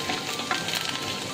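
Grated coconut fries in a pan for sambar with a steady close hiss and soft crackle, a few brief pops rising over the constant sizzle and no talking.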